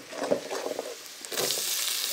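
Chinese potatoes go into a hot pan with pepper powder and garam masala, and a soft crackle swells into a loud, steady sizzle with stirring.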